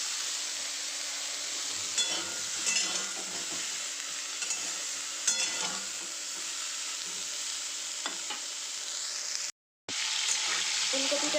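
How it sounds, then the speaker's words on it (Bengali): Cauliflower fries in a pan with salt and turmeric, giving a continuous close sizzle with occasional stirring scrapes. The sound cuts out briefly near the end and then resumes. "ফুলকপিটাকে নুন আর হলুদ দিয়ে ভালো করে ভেজে নেব।"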